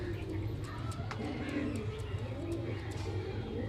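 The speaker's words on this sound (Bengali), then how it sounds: "এটা মাদি পায়রা দেখো" Kaldumma pigeons, including a female, cooing in soft repeated low calls, quiet and close, with a person talking over them and faint chirps in the background.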